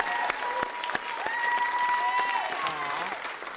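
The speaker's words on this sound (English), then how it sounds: "The way John was clapping you there." Studio audience on the UK game show Blockbusters breaks into sustained, full applause for a new pair of contestants, with a bright musical sting and some voices layered over the clapping.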